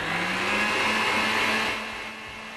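An electric hand mixer whirs steadily through lemon-ginger cake batter, a close, even motor hum with a bright buzzing whine that holds for a couple of seconds and then drops to a lower speed.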